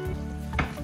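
Browned birria beef lifted out of a hot frying pan, a steady close sizzle with a brief louder scrape or clatter near the end.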